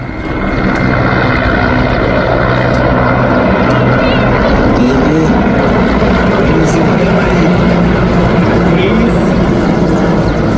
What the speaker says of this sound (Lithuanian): Lenkijos specialių operacijų pajėgų sraigtasparniai Mi-17.